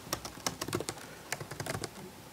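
Rapid typing on a computer keyboard while writing iPhone app code, a close, uneven run of crisp key clicks with short pauses and no voices.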